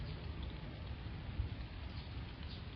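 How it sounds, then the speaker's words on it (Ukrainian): Steady heavy rain shower falling outdoors on a rural homestead, a dense continuous patter at low to moderate level with no voices, uniform throughout. "Дощ не перестає."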